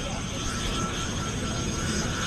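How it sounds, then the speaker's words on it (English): Aircraft engine droning steadily over the Coventry Air Show airfield, a loud, continuous broadband roar with voices talking beneath it. "Aircraft at the airfield."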